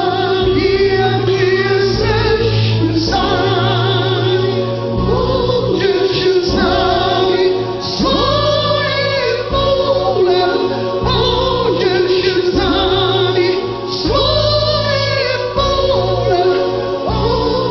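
Recorded duet song, dense full-band music with layered vocals playing continuously and loudly throughout, no talk over it.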